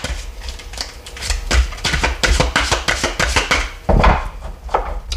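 A deck of tarot cards being cut and shuffled, a rapid run of crisp card snaps and flicks close to the mic, fairly loud with brief pauses.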